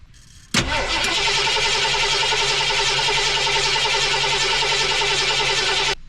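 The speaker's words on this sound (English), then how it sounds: "we're gonna start by spinning the engine over with the key and see how it sounds" An engine is cranked with a key, catching abruptly and then running at a steady loud idle for several seconds before cutting off.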